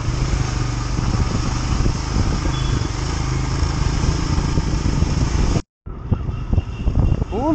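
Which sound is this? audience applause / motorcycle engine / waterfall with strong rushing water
motorcycle engine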